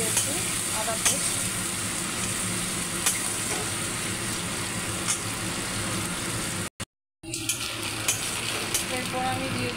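Ginger paste frying and being stirred in a pan, a steady close sizzle with scraping stir strokes throughout, broken by a brief silent gap near the end before the sizzling resumes.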